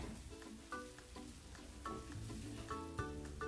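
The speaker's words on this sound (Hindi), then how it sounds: "लहसुन अदरक प्याज का पेस्ट बना ली थी उसे मैं ऐड करके इसे फ्राई कर रही हूँ।" A garlic, ginger and onion paste fries quietly in a pan, a soft low sizzle with faint stirring under background music.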